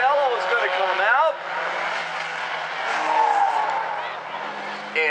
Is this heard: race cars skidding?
yes